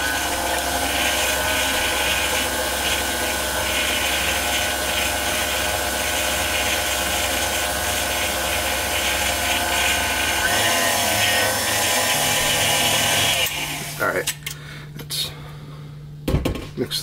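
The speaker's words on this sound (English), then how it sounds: "So we're going to start blending it." KitchenAid stand mixer whirring steadily as it blends a mustard BBQ sauce, a loud continuous motor drone that runs for most of the clip before cutting off, followed by a few scattered clatters.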